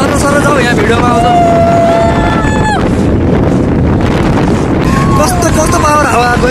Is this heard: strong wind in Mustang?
yes